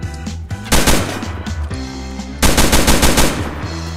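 Rapid automatic gunfire from a loud gun in Roblox Fallen, two long bursts of fast shots separated by a brief pause, close and punchy.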